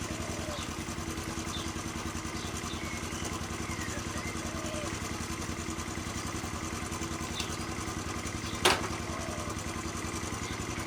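A postie bike motorcycle sits idling in gear with a steady, rhythmic low putter, close by and constant, with a brief clatter near the end and no talk.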